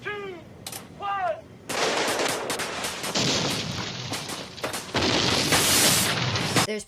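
An action movie battle scene erupts into dense gunfire and booming explosions after a brief whistling tone, loud and continuous bursts of shots layered over heavy blasts, with a voice calling over a loudspeaker mixed in.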